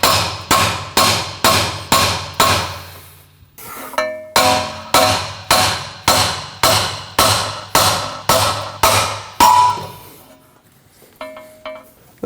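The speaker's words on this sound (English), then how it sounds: "I'm going to give the top of the knuckle a few taps" Sharp metallic hammer taps on the top of a Honda Pilot front steering knuckle, struck about sixteen times in a steady rhythm, each ringing briefly, with a short pause and a couple of lighter clinks near the end.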